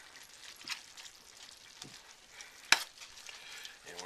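Chili-ready diced tomatoes being stirred into frying taco filling in a pan, a steady soft sizzle with occasional spoon scrapes and one sharp clink, close and quiet with no talking.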